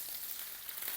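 Steady, faint crackling sizzle of butter and olive oil frying in a hot pan, a continuous hiss with tiny pops throughout.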